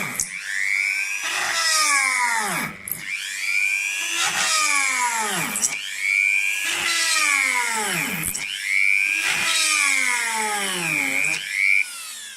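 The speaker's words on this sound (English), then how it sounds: "we're taking a high torque device and we're going to drill a few holes" A high torque power drill boring a few holes: four repeated bursts, each a whining motor spin-up that rises and bogs under load, then stops, loud and close with no talk.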